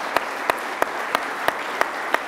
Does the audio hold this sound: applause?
yes